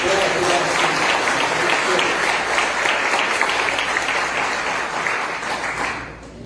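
A church congregation at Bereana Campo Grande bursts into steady, dense applause during a service, with clapping sustained at full strength and easing only at the very end.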